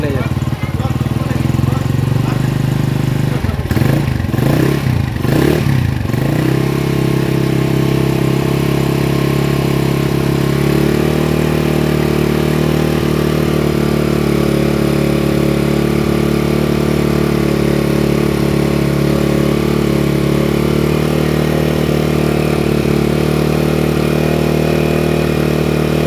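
A red Honda CB motorcycle engine idles steadily and loudly up close, with a burst of revving early on before it settles into a continuous low rumble; voices can be heard over it.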